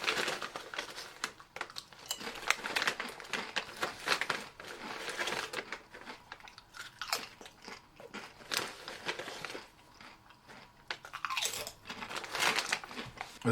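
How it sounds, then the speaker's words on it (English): Air-fried Kettle Brand salt and vinegar potato chips crunched and chewed close up, with a steady run of crisp bites and rustles over about thirteen seconds, alone and without talk. "these air fryer chips are much lighter in crunch"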